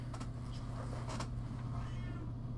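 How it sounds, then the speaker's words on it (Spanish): A domestic cat meows close by, several short cries in a row, over a steady low background hum. "No, miau no. Miau no, gato."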